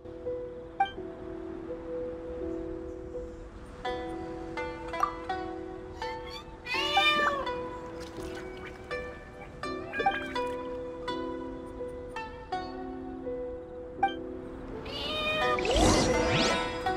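A cat in Genshin Impact meows repeatedly in short, clear calls over soft wind and a sustained musical tone, ending in a louder rustling burst.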